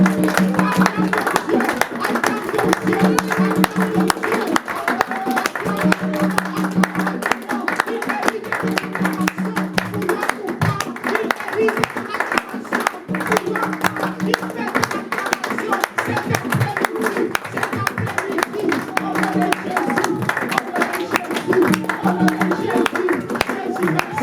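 A church congregation claps steadily and rhythmically in unison during a French-language service, with crowd voices and cheering mixed in throughout and sustained tones, likely music or singing, running underneath.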